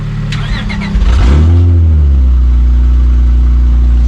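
Car engine cranking and catching after about five gallons of fuel are poured into a completely empty tank, a brief churning start that rises into a loud, steady, rumbling idle close by.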